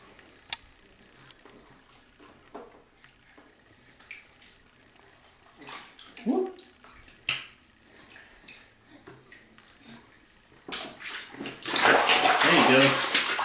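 A child splashing water in a bath, scattered small splashes and drips with occasional adult talk, building to a louder, sustained burst of splashing toward the end.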